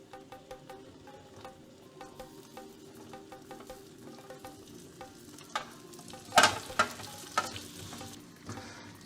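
Cashew nuts and raisins fry in ghee with a soft, steady sizzle and crackle, then a burst of sharper pops and clinks from stirring near the end; no one talks.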